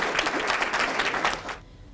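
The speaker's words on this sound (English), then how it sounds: "I think he deserves a round of applause." Wedding guests applaud together in a dense burst of clapping lasting about a second and a half, then it stops and leaves quiet room tone.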